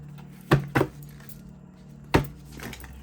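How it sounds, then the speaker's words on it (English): Cards from a thick deck being shuffled, heard as three sharp riffling bursts at close range with quiet pauses between them, and no talking. "So let me shuffle it here."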